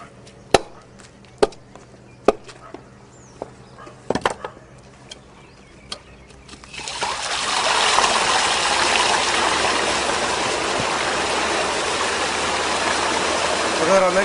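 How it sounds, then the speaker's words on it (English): Indigo dye water, carrying dissolved indigo white, gushes steadily into a second tank once a plug is pulled, a loud continuous rushing flow that follows several sharp knocks and chops. "The water, containing the indigo white, or dissolved indigo, flows into a second tank."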